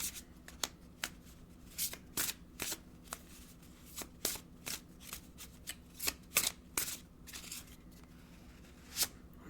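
Oracle cards are shuffled by hand, a quiet series of crisp riffling bursts repeating at irregular intervals, close and soft, with no talking.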